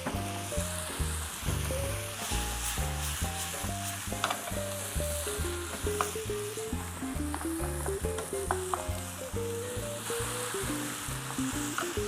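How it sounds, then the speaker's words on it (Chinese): An egg crepe cooking in a pan for a dried-cabbage omelette rice roll gives off a steady, even sizzle that runs unbroken throughout, heard under prominent background music. "等下先嚟煎啊卵餅。"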